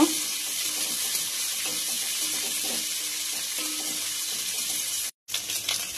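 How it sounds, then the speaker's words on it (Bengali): Tempering spices, curry leaves and finely chopped onion frying in hot oil for a Bengali masoor dal, heard as a loud continuous close sizzle that cuts out briefly near the end and then returns. "ফোড়ন, পাতা, পেঁয়াজ কুচি ভালো করে ভেজে নেব"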